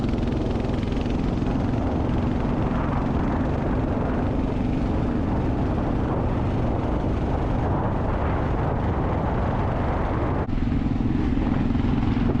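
A Kawasaki KLR 650 dual sport motorcycle carries two riders at a steady cruise, its engine a constant low drone buried in heavy wind rush for the whole stretch, with no talking.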